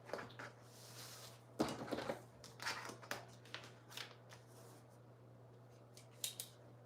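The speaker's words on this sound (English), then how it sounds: "I want to cut this piece above this slip line right there." Scissors snip through a paper sewing pattern piece in short, uneven bursts of crisp cuts with paper rustling between them, close and quiet over a low steady hum.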